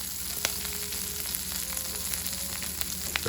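Broccolini sautéing in oil in a pan over medium-high heat, giving a steady close sizzle and crackle with small pops scattered throughout and no talking.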